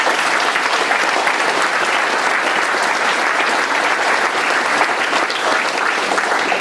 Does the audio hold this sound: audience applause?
yes